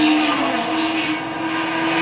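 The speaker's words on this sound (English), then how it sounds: "Hear that whine from these engines at top revs." Touring car engines at top revs during a 1997 North American Touring Car Championship street race in Toronto, a steady high-pitched whine with a strong sustained tone, loud and continuous throughout.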